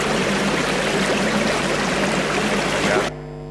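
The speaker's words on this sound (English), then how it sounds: "although this is a water stream that you hear" Steady broadband rush of a flowing water stream, continuous and fairly loud, cutting off abruptly near the end.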